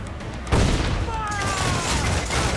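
Ship cannons firing in a naval battle in Assassin's Creed IV Black Flag: a heavy broadside boom erupts after a brief pause, followed by dense rumbling blasts and spray-like noise, with faint shouting voices behind.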